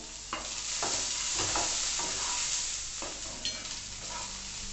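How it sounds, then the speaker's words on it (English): Corn, capsicum and carrot sauté in a hot pan with a steady broadband sizzle, broken by repeated scraping stirs of a spatula at a close, moderate level, with no talking. "the corn, and the capsicum and saute it for a while"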